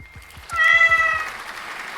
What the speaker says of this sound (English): Somebody meowed at me.